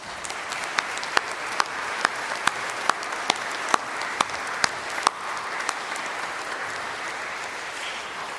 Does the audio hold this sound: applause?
yes